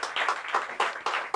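A church congregation claps in praise during a worship service, a short run of steady, moderately loud rhythmic clapping with broad bursts recurring about every quarter second, no talking over it.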